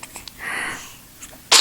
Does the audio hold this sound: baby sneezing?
yes